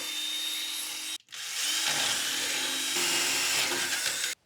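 A power drill fitted with a 7/32 drill bit bores holes during a snowblower flapper mod, a sustained high whine that stops briefly after about a second, then resumes loud and close until cutting off.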